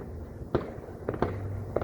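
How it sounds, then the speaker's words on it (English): Fireworks bursting on Fourth of July eve, with several sharp pops and crackles spaced irregularly over a steady low rumble, moderately near and loud, with no talking. "Are you guys enjoying your fireworks?"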